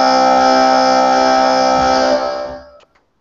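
Korg MS-20 synthesizer played through a guitar amplifier in a concrete garage: a bright, sustained harmonic drone holds steady, then fades over about a second into a short tail of real room reverb.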